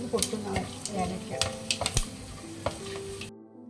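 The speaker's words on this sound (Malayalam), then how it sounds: "ഇത് പൊട്ടുന്ന ഏലക്ക." Cardamom pods crackle and pop in about five teaspoons of hot oil for a green chicken curry, giving scattered sharp snaps over a low sizzle with occasional stirring.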